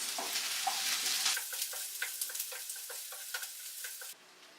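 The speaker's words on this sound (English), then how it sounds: "We're going to add the chopped onions to the highly heated pan and fry them on here until they go see-through" Chopped onions frying in a highly heated pan, a bright continuous sizzle with rapid crackles and clicks of stirring, close and without talk, dropping suddenly to a quieter hiss near the end.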